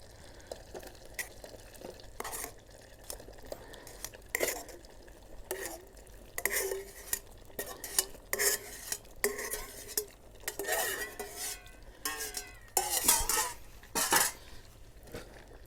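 Vegetables are stirred in a pot on a camping stove fitted with a pot stand and wind shield, with irregular scraping and metallic clinks of utensil against pot over a faint sizzle, close and intermittent.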